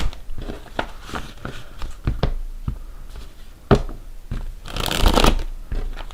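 Deck of oracle cards being shuffled by hand, a close series of crisp riffles and taps in irregular bursts with a longer flurry near the end, heard without talk.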